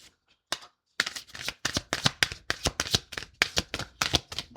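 Tarot cards shuffled and drawn by hand, a quick run of crisp riffling flicks in steady rhythm, close and fairly loud, after a brief pause, with no talking.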